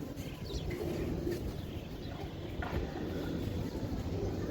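Giribaz high-flyer racing pigeons kept in pairs give soft, low cooing amid a constant murmur of background noise, faint and continuous with no voices.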